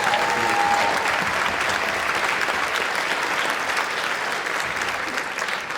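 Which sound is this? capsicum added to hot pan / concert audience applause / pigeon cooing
concert audience applause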